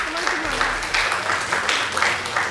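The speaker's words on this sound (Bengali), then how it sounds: "সকলে একটু করতালি দেবেন।" An audience at a film festival certificate ceremony breaks into applause, a dense steady patter of clapping lasting a couple of seconds, with a voice briefly heard over the start.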